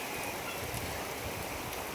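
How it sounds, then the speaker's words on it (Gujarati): Heavy rain pours down steadily in Gujarat, a dense, loud, unbroken hiss of drops hitting surfaces all around, with no voices. "વરસાદની તો બહાટે બોલાવે બહાટે બહાટે"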